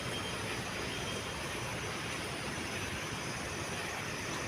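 Continuous roaring rumble of a metro train in motion at Newton MRT, steady and loud throughout with a faint high whine, no voices.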